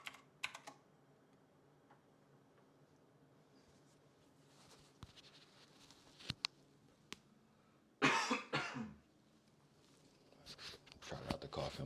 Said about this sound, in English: Try not to cough in my mic right there.